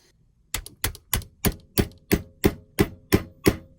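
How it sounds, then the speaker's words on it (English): A hammer taps a needle through holes in a journal cover, ten sharp, evenly spaced knocks at about three per second, close and crisp against an otherwise quiet background. "the needle and hammer technique works as well"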